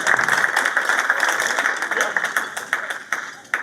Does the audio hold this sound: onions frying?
no